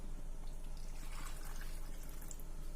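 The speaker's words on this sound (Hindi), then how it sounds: "एक कढ़ाई में हम चाशनी बनबै छी, जै के लेल 1 लीटर पानी ले छिए हम।" About one litre of water poured into a kadhai (wok) to make sugar syrup for a sweet, a steady continuous splashing pour heard close and alone.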